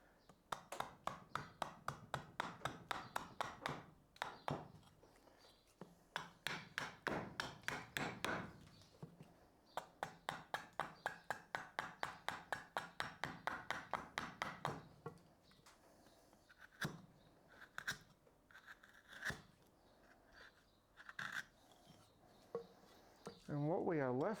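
An axe trims the head of a carved wooden spoon with rapid runs of sharp, close chopping taps, broken by short pauses and scraping sounds.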